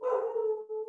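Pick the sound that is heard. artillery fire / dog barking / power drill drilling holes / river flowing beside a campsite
dog barking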